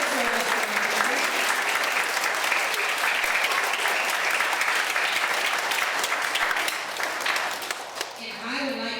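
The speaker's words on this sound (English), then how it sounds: "let's give Mr. Conner, our guest speaker, another round of applause" A school audience of children and adults at an elementary Veterans Day program applauds a guest speaker, steady dense clapping filling the room for nearly the whole stretch before it thins out at the end.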